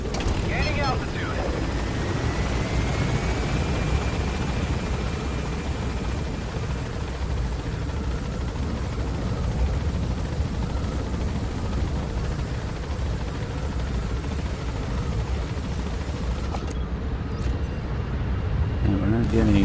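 A helicopter in the video game Metal Gear Solid V climbs to gain altitude, its rotor and engine a steady, dense drone running throughout, with people talking over it.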